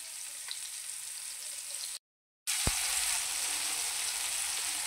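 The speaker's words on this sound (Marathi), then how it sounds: "एक बाजू चांगली कुरकुरीत अशी तळून घ्यायची आणि मगच दुसरी बाजू तळायची." Fresh Bombay duck (bombil) fillets fry crisp on an iron tawa, a dense, bright, steady sizzle close by, briefly cut to silence, then resuming with one sharp tap.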